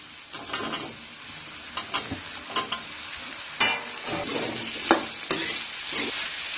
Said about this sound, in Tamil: இப்போ காய் நல்லா வதங்கினோன்னு கட் பண்ணி வச்சிருக்க பைனாப்பிளை சேர்த்திக்கலாம்.